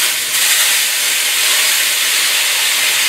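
Sherry cooking wine hitting a hot pan of onion, garlic and chili for a beef and mixed vegetable stir fry, bursting into a loud, steady steam hiss that holds strong for the full few seconds with no talking.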